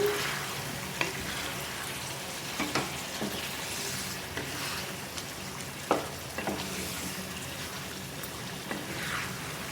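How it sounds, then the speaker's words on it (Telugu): Chicken sherva is stirred as it cooks in a pot, with a continuous sizzle and bubbling plus scattered scrapes and clinks of a spoon against the pot, heard close with no talking. "మధ్య మధ్యలో ఇలా కలుపుకుంటూ ఉడికించుకోవాలి."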